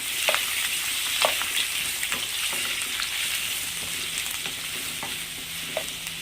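Onions and cabbage frying in a pan for masala cabbage fry, a constant bright sizzle with occasional stirring scrapes and small crackles, close and steady with no talking.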